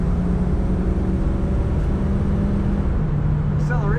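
A red 1966 Ford Mustang convertible drives with its engine droning loudly and steadily up close, the tone stepping slightly higher toward the end.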